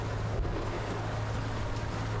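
Steady wind of about 17 knots rushing over a sailboat at sea, a constant broad roar with water wash underneath, no voices.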